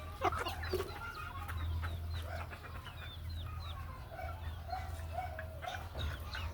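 A mini chicken clucks in short scattered calls against a quiet outdoor background, with a low steady hum throughout.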